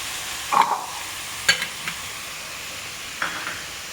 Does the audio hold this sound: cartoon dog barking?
no